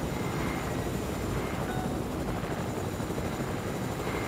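A helicopter flying in the Fortnite video game, a steady, dense rotor and engine roar holding constant and loud throughout, with no voices over it.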